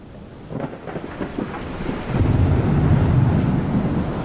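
Stormy sea ambience in an 18th-century sailboat simulator game: steady wind roar and surging waves building louder after a couple of seconds, with a few low rumbling swells like distant thunder, no voices.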